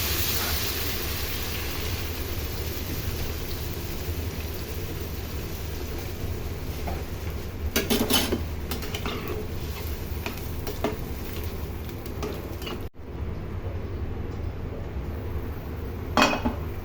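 A spatula stirs and scrapes a pan of jackfruit seed, potato and vegetable stem curry seasoned with chili powder, giving off a soft steady sizzle. Faint clinks of utensil on metal recur, with a couple of sharper knocks.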